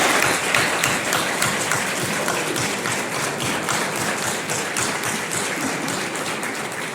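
An audience gives a resounding round of clapping for students of the Rajiv Gandhi Institute of Petroleum in Amethi, dense and loud, sustained evenly for the whole stretch.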